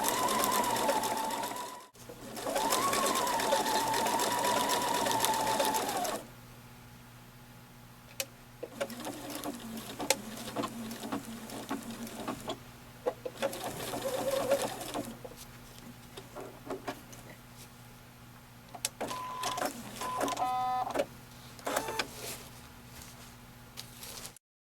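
A sewing machine stitches rows of machine smocking on fabric held by sticky stabilizer. It runs in several bursts: a long steady whirring run at the start, then shorter start-stop stretches and a final quick burst, all close and fairly loud with no talking.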